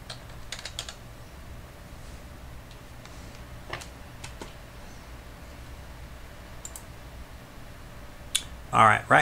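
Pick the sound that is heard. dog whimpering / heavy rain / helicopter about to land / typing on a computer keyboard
typing on a computer keyboard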